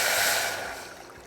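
Water poured into a pot for tamarind sauce, a broad bright rush of splashing that fades over about a second, close and alone.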